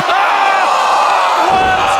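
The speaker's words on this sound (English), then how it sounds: "Listen to this crowd." Wrestling arena crowd roaring loudly and steadily, a dense wall of shouting and cheering voices with a heavy thump near the start and a surge toward the end.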